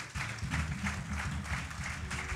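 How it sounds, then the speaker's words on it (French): A church congregation applauds during a Sunday service, a steady, moderately distant wash of many hands clapping that lasts throughout with no pause. "est-ce qu'on peut acclamer le Seigneur Jésus-Christ?"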